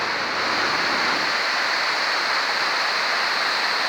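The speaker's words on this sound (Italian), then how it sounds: "da qui si sente anche proprio il fruscio, il rumore dell'acqua" Rushing water of the Tagliamento river flowing beneath a bridge, a steady, loud broadband hiss with no pauses, heard close and alone.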